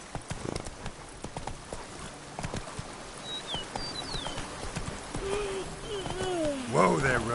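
Roach, the horse in The Witcher video game, gallops along with a steady clip-clop of hooves, joined late by brief tonal game sounds and a rising ambient swell.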